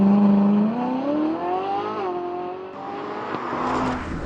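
A Ferrari 458 Italia drives on the road, its engine note loud and clear, climbing through the revs, dipping at a gear change, then pulling strongly again.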